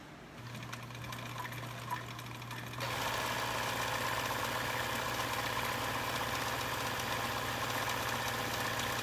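An old-style Bernina 830 sewing machine stitches fabric with a steady, fast mechanical whir and hum, starting softly and then running louder and even for most of the stretch, with no voices.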